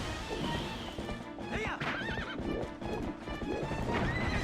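A horse in Zelda: Twilight Princess whinnies loudly, with rising and falling wavering calls, over steady galloping hoofbeats and game sound effects throughout.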